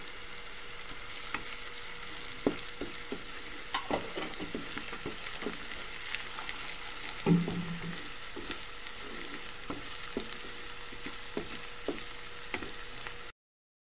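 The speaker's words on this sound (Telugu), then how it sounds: "అల్లం వెల్లుల్లి పేస్ట్ బాగా వేగిపోయిందండి" Ginger garlic paste and turmeric frying in a pan, a constant close sizzle broken by sharp scraping taps of a spoon stirring, with no voices.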